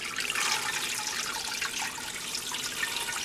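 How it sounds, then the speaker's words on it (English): Water pours steadily into an 8-quart stock pot to cover a pot roast, a continuous close splashing rush with no talk. "I'm going to just cover it with water."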